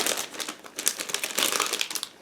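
A plastic bag crinkles and rustles continuously at close range, a busy crackling texture with no voices.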